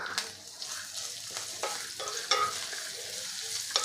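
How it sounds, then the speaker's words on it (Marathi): Grated ginger and chopped chili sautéed with cumin in a pan, a close crackling sizzle with repeated spoon scrapes and clicks as the mixture is stirred, several sharp taps standing out. "आता हे आपल्याला परतवून घ्यायचं आहे"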